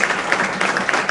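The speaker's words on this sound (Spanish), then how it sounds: "Antes, un aplauso, por favor" A brief, dense patter of clapping from an audience, loud and close, lasting about a second.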